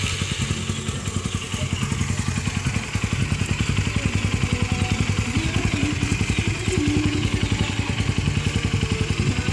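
A motorcycle engine runs through a test exhaust system pipe, a steady rapid thumping idle with clattering mechanical detail, close and loud, keeping an even rhythm throughout.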